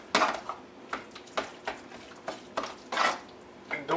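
A spoon stirs grated cucumber sauce in a bowl, giving a string of distinct scraping, clinking strokes at an uneven, steady pace, fairly quiet and close, with no voices.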